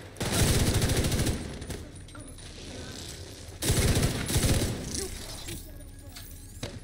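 Bursts of light machine gun fire in The Division 2 shooter, two long sustained volleys of rapid rattling shots with mechanical clatter and game effects between them.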